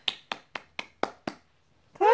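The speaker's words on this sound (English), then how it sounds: "Can you do claps?" A child claps hands six times at an even, fairly quick pace, each clap sharp and close, followed by a short pause before a voice starts speaking.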